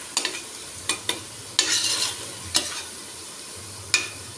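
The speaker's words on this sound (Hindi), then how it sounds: "डालूंगी कटे हुए 2 टमाटर। इसे मैं अच्छे से भूनूंगी।" Two chopped tomatoes sautéing in a pan for Kokni-style mutton curry, with sharp spoon scrapes and clanks coming at irregular intervals over a low sizzle, close up with no voices.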